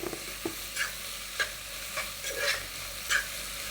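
Onion and tomato sautéing in a pan, a soft continuous sizzle broken by repeated scraping stirs of a spoon every half second or so, close and fairly quiet with no voices.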